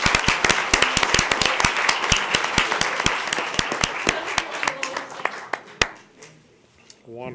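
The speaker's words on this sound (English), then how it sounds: "let's all give them a big round of applause." An audience at a school board meeting claps in a steady run of sharp hand claps that thins out and stops near the end, and people talk underneath.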